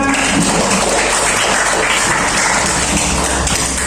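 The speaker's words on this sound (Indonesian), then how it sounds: "tepuk tangan dong untuk kita semua" Students in a classroom clap together at the end of a lesson, a dense, steady burst of applause filling the full four seconds at close range.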